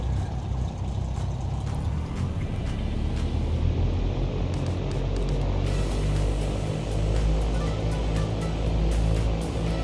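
Simulated Cessna 172 piston engine held at a 1700 RPM run-up, a loud steady propeller drone with a constant low hum filling the whole stretch, no talking.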